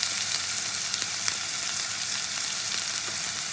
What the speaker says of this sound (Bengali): পেঁয়াজটা ভাজার সময় একটু পরিমাণ মতো নুন দিয়ে দেবো,